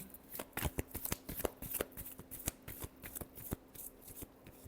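Tarot cards being shuffled over and over in a quick, steady run of crisp papery riffles and snaps, close and fairly quiet, with no talking.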